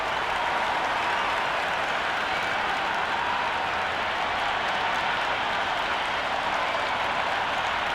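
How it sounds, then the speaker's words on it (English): A packed crowd at a cricket stadium before an IPL match between SRH and RCB roars and applauds in a dense, continuous wash of cheering and clapping, loud and unbroken throughout. "already the crowd making a hell of a racket"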